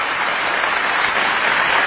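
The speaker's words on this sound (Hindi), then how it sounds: "एक बार जोरदार तालियां" An audience at a live event in Dubai bursts into sustained, dense applause, many hands clapping steadily and loudly with no talk over it.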